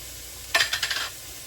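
Garlic drops into a hot pot for cabbage soup, giving a short burst of sizzling with a few stirring scrapes that lasts about half a second before fading, close and fairly quiet.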